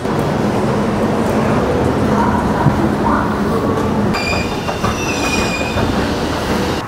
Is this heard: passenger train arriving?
yes